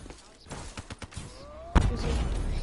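Gunfire from an HG40 submachine gun in Call of Duty multiplayer, a brief rapid burst of shots early on under a player's talk, followed by a heavy thump and louder sustained game noise.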